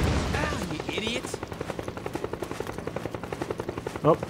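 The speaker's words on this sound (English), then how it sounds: "Oh, helicopter." A helicopter in Metal Gear Solid 4 thumps with fast, even rotor beats through the whole stretch, moderately loud, mixed with a brief burst of in-game voice and sound effects early on.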